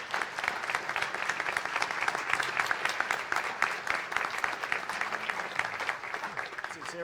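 An audience at a governors' winter meeting on cybersecurity applauds a panel with steady, sustained clapping that fills the room, and a voice is heard briefly near the end.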